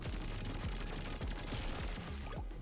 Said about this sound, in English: Got a bunch of explosions.